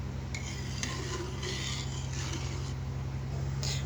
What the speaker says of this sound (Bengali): নাড়াচাড়া করে একটুখানি সময় ধরে রান্না করে নেব, যাতে করে চালের গুঁড়ো ডালের গুঁড়োগুলো সুন্দরভাবে রান্না হয়ে যায়।